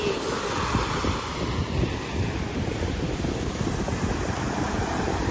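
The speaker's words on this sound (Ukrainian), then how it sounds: "Ова, які сильні хвилі." Strong ocean waves on a windy beach, a continuous loud roar of surf mixed with heavy wind buffeting the microphone, with no voices heard.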